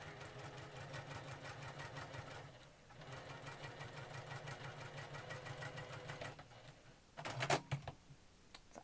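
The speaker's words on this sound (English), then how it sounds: "We're going to sew a 1/4 inch line on each side of the line there." A sewing machine sews a quarter-inch seam in quilt piecing, running in a fast steady close stitch rhythm with a brief pause, then stopping with a few clunks and rustles.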